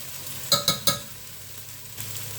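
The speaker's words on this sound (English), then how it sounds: "Give that a stir" A spoon stirs cumin, onion salt and minced garlic into chicken pot pie filling in a pot, with three quick knocks close together, a softer tap a moment later, and a quiet sizzle underneath.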